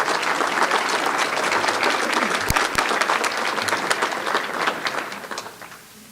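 Audience applause at a State of the Economy event, a full, dense burst of clapping from a crowd that holds steady and then thins out and fades toward the end.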